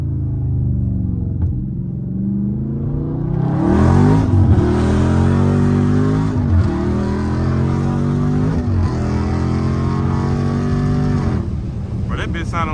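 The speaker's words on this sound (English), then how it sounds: "Yeah, I hear them downshifts." Dodge Charger Scat Pack sliding through turns, engine rumbling low, then revving hard with rising pitch and several sharp downshift blips, loud and close from inside the car while people talk over it.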